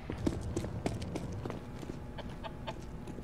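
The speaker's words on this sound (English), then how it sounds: "Dave, your chicken's back!" A chicken in Counter-Strike: Global Offensive lets out soft, scattered clucks amid faint footsteps and busy game background noise, with no voices.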